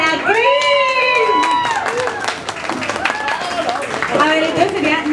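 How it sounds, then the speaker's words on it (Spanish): Audience applause and cheering at a cosplay contest, scattered claps and crowd noise running under loud, excited voices and shouts that dominate the mix throughout. "Un fuerte aplauso para Cris."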